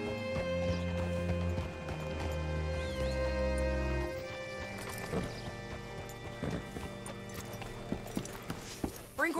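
Horse hooves clopping in Red Dead Redemption 2, a steady run of near hoof beats that slows and settles as the horse is brought to a stop, with a low droning background beneath.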